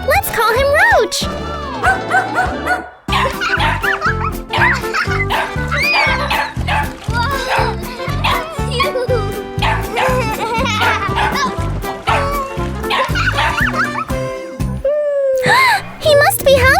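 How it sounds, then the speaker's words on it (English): A dog barks and yips repeatedly in an animated children's story, lively bursts set against playful music and voices, with a whimpering whine near the end. "Wow, it's a dog."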